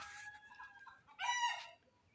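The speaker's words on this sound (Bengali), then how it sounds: "খুব সুন্দর সুন্দর মুরগিগুলো" Domestic chickens at a home give a few faint, close clucking calls, a short sequence of two or three bursts with quiet gaps between them and no voices.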